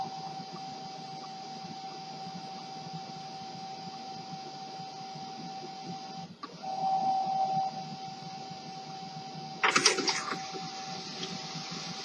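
A printer running off a test page after being reconnected and reloaded with paper, with a short steady whir midway and a brief burst of mechanical clatter near the end over a quiet background hum.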